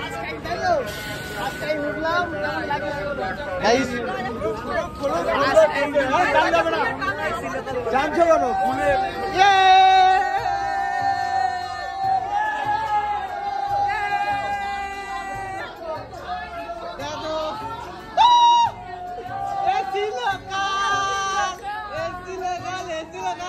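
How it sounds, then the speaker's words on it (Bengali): A dense crowd fills Bongaon railway station with constant overlapping chatter and murmuring, and nearby voices speak over the busy background hubbub throughout. "আর লোকের ভিড়টা দেখো জাস্ট। এই হলো বনগাঁ স্টেশনে"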